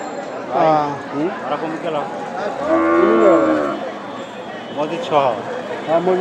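Cattle, including heifers, moo loudly several times, one long drawn-out low, amid a busy outdoor cow market crowd in Ramganj with people talking nearby.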